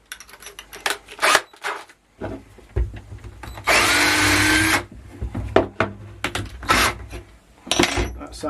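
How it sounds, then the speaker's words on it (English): A power drill with a small bit whines steadily for about a second drilling through metal, framed by clinks and scrapes of metal tools being handled close by. "you go through that way with a small drill bit"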